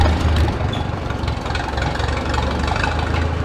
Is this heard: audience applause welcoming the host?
no